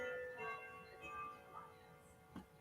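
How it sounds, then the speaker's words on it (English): A grandfather clock chimes faintly in the distance, with ringing bell-like tones that overlap and decay, followed by a soft knock near the end. "That's not a doorbell. What is that? A grandfather clock."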